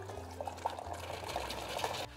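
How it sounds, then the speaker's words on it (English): Boiling water is poured from a kettle into a homemade muesli mixture, a soft continuous trickling pour of about two seconds, close and quiet. "I'm gonna get some hot water, boiling water. And I'm gonna add that in there"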